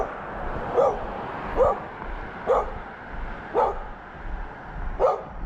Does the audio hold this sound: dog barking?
yes